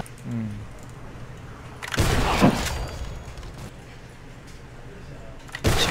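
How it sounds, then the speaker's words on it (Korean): Gunfire in the online shooter Alliance of Valiant Arms, a loud burst of rapid shots about two seconds in and another at the very end, with quieter game ambience between. "총소리 가까웠어"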